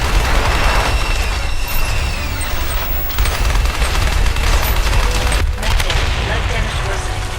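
Machine gun and rifle fire in the video game Left Alive: a dense, loud continuous fusillade of shots with heavy low rumble and a couple of sharp breaks, close and sustained.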